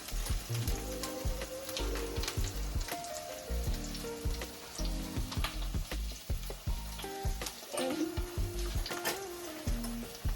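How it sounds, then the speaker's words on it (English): Ackee simmering in a pot with a steady, close sizzle and bubbling that runs throughout, broken by occasional stirring clinks and scrapes; no talk over it. "So we take time and simmer them into the pot."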